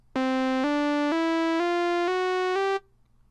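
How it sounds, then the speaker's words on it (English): An Arturia Modular-V sequencer steps through six synth notes at a slow, even pace, each bright buzzy tone rising slightly in pitch before the sound cuts off abruptly, clean and up front. "if I slow it down, turn this knob counterclockwise, we'll hear a slower sequence"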